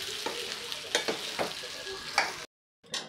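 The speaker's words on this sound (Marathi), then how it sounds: "या कढईत मोकळं चाळता येईल म्हणून आपण फक्त यात मिक्स करणार आहोत." Amla pickle mixture with jaggery being stirred in a hot kadhai after the gas is turned off, giving repeated scraping strokes and a light sizzle. The sound stops briefly near the end, then one more stir follows.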